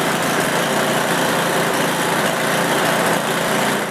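A snowblower's small engine runs steadily on fuel treated with stabilizer, a loud, continuous high-pitched drone up close without pauses or talk.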